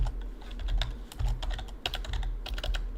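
Typing on a computer keyboard during a software engineering session, with rapid irregular key clicks in bursts and short pauses, close and fairly loud, no talking.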